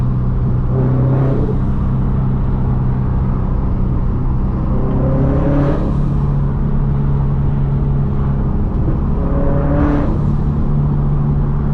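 A turbocharged Subaru BRZ engine drones steadily while driving, with three rising pulls under throttle spaced a few seconds apart, loud and constant from inside the car.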